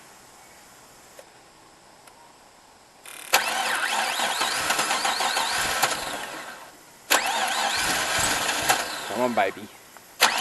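Turbocharged LS1 V8 in a Holden One Tonner, freshly cleaned injectors and a new Walbro fuel pump, cranks with a steady whirring rhythm for several seconds, pauses, then cranks again and catches into a rough idle, with voices nearby.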